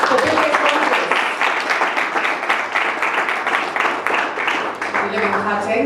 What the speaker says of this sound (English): a round of applause, ladies and gentlemen, for Rigobert Feutzing